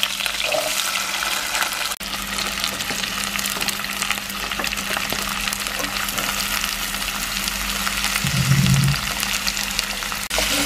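More than half a kilo of garlic fries in oil in a pan for a pickle, giving a loud, steady, close hiss of sizzling that continues throughout, with a brief low hum near the end.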